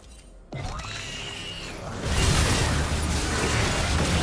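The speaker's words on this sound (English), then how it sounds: "Blue team's turret has been destroyed" A League of Legends turret is destroyed with a sudden crash and burst, followed by a loud, sustained rumbling collapse with debris-like crackle, close and dominant.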